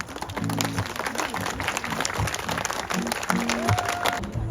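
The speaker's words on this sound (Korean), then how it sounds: "축복의 박수 부탁드립니다" Wedding guests clap at an outdoor hanok-style wedding ceremony in the rain, a steady crowd applause running throughout with some voices and a brief tonal sound mixed in.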